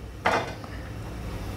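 A heavy-bottomed steel pot of milk set down on a gas stove makes one brief metallic clank near the start, followed by quiet hum.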